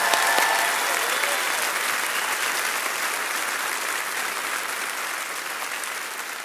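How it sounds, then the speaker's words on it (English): Sustained applause from a graduation ceremony crowd honoring the school's first woman president, a broad continuous wash of many hands clapping that holds steady and fades slightly toward the end. "I think that deserves a round of applause."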